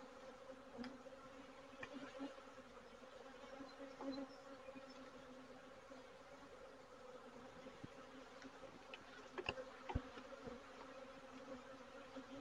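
Honey bees buzz steadily during a hive inspection over a brood frame, a dense, continuous drone broken by occasional faint taps and clicks.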